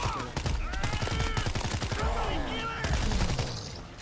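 Soldiers shooting in a zombie-infection wave-defense video game, with dense rapid gunfire bursts running continuously under excited talking and game effects.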